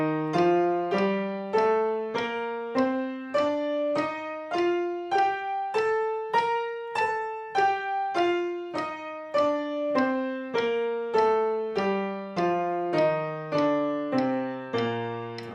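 A piano plays an even, legato scale-like run that climbs and then descends at a steady, moderate tempo, each note clear and close with no voices.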